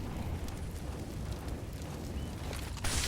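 A Molotov burning in Counter-Strike on the Inferno map, a steady roaring, crackling fire hiss that holds level throughout, ending with a brighter burst of noise near the close.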